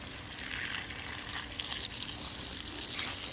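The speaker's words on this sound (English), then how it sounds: "I water it until it looks like it's going to run into the other one." Water spraying steadily onto soil in a raised garden bed, a soft continuous hiss and patter heard close and fairly quiet, with no talking.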